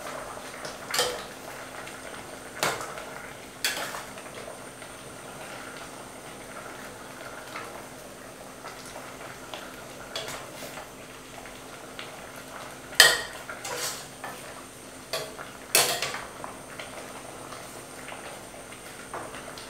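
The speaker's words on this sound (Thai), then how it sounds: "คนให้น้ำปูละลาย" Crab paste being stirred into bamboo shoot curry in a pot, heard as sparse, scattered clinks and knocks of a utensil against metal over a quiet background.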